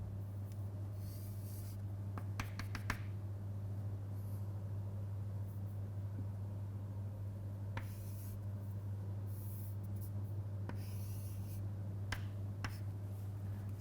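Pen or marker strokes scratch out a hand-drawn diagram on paper, with bursts of short scribbling strokes and taps against a steady low electrical hum.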